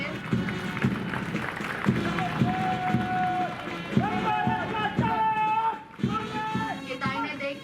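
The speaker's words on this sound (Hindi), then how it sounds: "बहुत बढ़िया, तालियां बजती रहनी चाहिए।" Sustained audience applause at a police recruit passing-out parade, a dense crackle of many hands clapping beneath a loud voice speaking over a PA.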